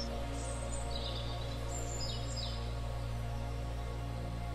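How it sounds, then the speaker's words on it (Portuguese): Faint birdsong drifts through a forest, thin chirps and short trills rising now and then above a steady low hum. "Escute os sons desses pássaros."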